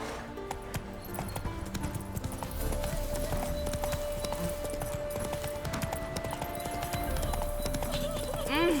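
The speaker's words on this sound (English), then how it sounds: "Run, Roach." Horse hooves in The Witcher 3 clip-clopping at a gallop in quick, steady rhythm, close and loud, with a whinny and a sustained game music tone over the pounding.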